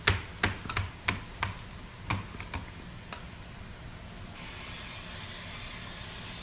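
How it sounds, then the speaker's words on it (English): A few sharp clicks from a kitchen oil spritzer, then a steady, close hiss of spray that continues to the end. "I'm just gonna spray with our kitchen spritzer real quick"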